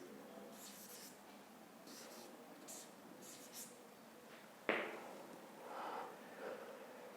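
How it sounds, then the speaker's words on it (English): Math being written on a board in a quiet classroom: faint scratchy writing strokes come in short bursts, then one sharper tap on the board followed by more soft scribbling. "If we write something like this"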